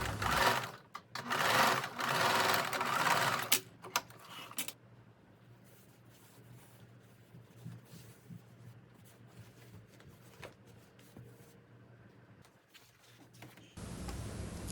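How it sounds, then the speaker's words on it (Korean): A sewing machine runs a fast burst of stitching along the seam line of a dress's back panel, loud and close at first, then drops to quiet handling and rustling with a short hum at the end. "다시 한번 시접선을 그려주고 시접선을 따라서 박음질을 합니다."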